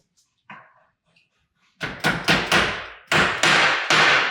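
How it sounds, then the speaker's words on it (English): After a couple of faint knocks, a hammer pounds into wood during frame assembly in a quick series of loud, hard blows, each with a short ringing decay. "it's a hard sound, because then you're pounding right through into the wood"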